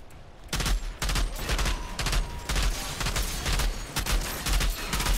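Rapid bursts of gunfire from the Outriders shooter game, loud and close, with repeated volleys firing in quick succession across the whole stretch.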